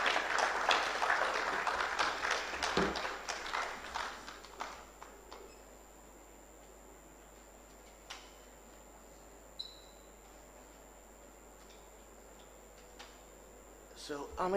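An audience at a health training dialogue event applauds, the clapping dense and moderately loud for several seconds before thinning out into a few scattered claps and quiet room noise, with a voice speaking near the end.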